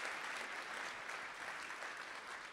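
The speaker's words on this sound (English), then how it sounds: "can we give them a quick round of applause?" Audience at a community event applauding a newly introduced community manager, a quiet, even patter of clapping that sounds distant and continues throughout.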